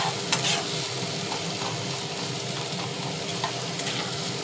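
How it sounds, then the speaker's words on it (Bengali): Onions frying over low-to-medium heat in a pan while cooking Bengali aloo dum, a steady close sizzle and crackle with occasional stirring scrapes and no talking. "এবার পেঁয়াজটা ভাজার অপেক্ষায়"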